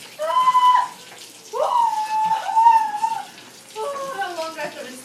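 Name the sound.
water running while rinsing lobsters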